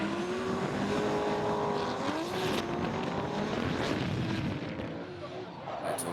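Drift cars battle at Croix en Ternois, an orange BMW chased by a white Nissan S14, engines wailing and revving loudly with rising and falling pitch and tire noise, under an excited commentator.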